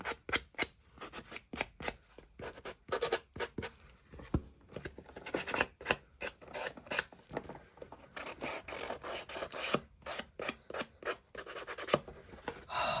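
A small hand sander scuffs the edge of a paper and card packaging journal in quick repeated strokes, faint and close, with short pauses between bursts and no talk.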